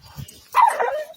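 Dogs in a truck at a park, worked up over a groundhog, let out a few low close barks and then a loud, drawn-out whimpering whine.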